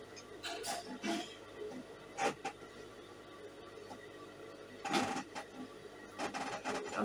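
A sewing machine stitches fabric with crinoline, its tension being loosened for gathers: close, intermittent bursts of mechanical whirring and clatter start and stop over a quiet background.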